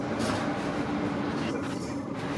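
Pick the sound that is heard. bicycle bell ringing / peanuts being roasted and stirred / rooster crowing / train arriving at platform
train arriving at platform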